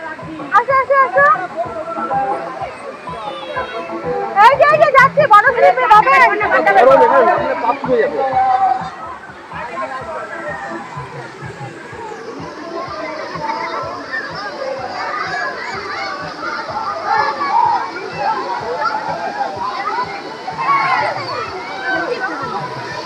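Water pouring down from an overhead feature at a water park, a constant rushing wash beneath frequent nearby talking and children's voices.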